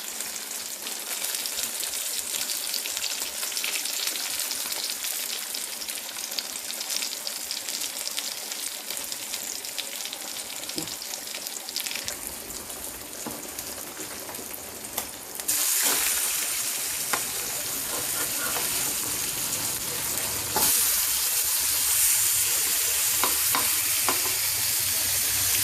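Fish pieces for Coastal Andhra-style fish fry crackle in a pan of hot oil: a continuous, close sizzle with occasional stirring, the frying growing louder partway through, without any voices.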